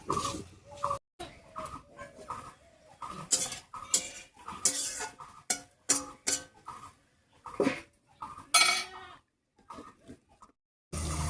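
Metal pan and lid clatter while spinach cooks on the stove, with a series of sharp clinks and knocks in uneven bursts and short pauses, close by and fairly loud.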